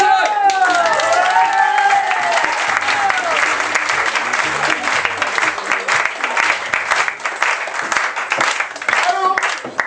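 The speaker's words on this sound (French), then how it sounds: "tonnerre d'applaudissements pour mon spectacle" Audience applause for a comedy stage show fills the room, a dense, loud, continuous wash of clapping with scattered cheers and whoops, holding steady before thinning slightly at the end.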